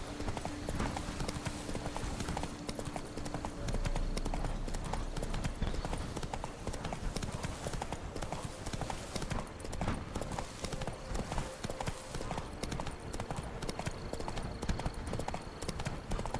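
Roach, the horse in The Witcher 3, gallops with a fast, continuous drumming of hooves, loud and close over steady game ambience, with little talk.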